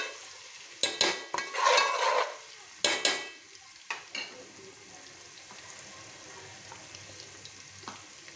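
Ginger and garlic sizzle in hot oil while a spoon scrapes and clacks against the pan in a few sharp strokes, then the frying settles into a quieter crackle.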